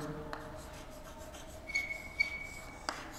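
A marker or chalk scratches across a board while a definition about the inner product of vectors is written out, producing faint, close strokes with a few small taps in an otherwise quiet room.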